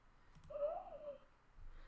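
An owl sound effect played back in mBlock gives one clear, close hooting call in the middle, lasting under a second, with a soft click before it and a low hum around.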